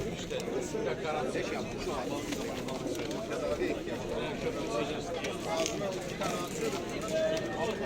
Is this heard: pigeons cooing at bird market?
yes